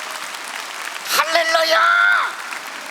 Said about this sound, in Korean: 박수 세게 쳐줍니다.